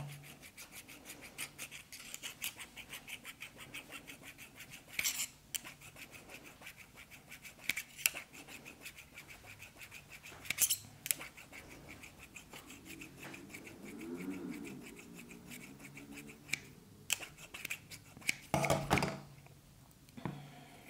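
Freshly sharpened scissors snipping, a few sharp crisp cuts spaced several seconds apart with light rubbing and handling noise between, close and fairly quiet.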